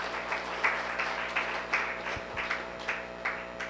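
An audience at a diet seminar claps for the cooks, a modest, evenly pulsing round of applause heard from a short distance, without talk.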